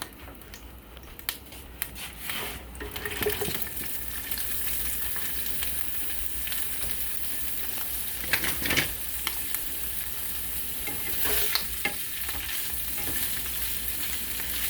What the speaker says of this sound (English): now I'm gonna go ahead and add my meat to my grease